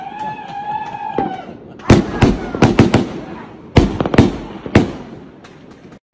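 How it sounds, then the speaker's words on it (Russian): New Year fireworks on the night of 2022: a rising whistle gives way to sharp, loud bangs and crackling bursts in irregular clusters, echoing nearby with faint crowd noise beneath. "Снег и фейерверк."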